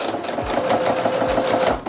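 A sewing machine stitches denim for a pair of mom jeans, its needle chattering in a fast, steady, continuous whir close by with no pauses.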